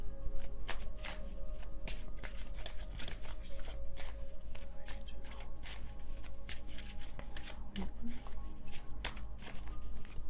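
Tarot cards shuffled by hand, producing a steady run of close, crisp riffling and slapping flutters that continue without pause for the full stretch, with no voices over them.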